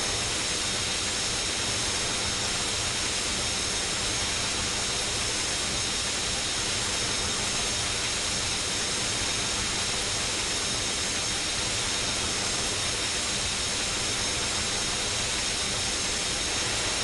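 An airliner, a Boeing 737 or Airbus A320, roars steadily at takeoff thrust in Unmatched Air Traffic Control. The jet engine noise is a dense, unbroken hiss that holds the same loud level the whole time, with no voices over it.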